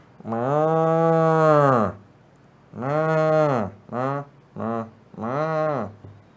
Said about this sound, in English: It's moo, but it also sounds like a lawnmower.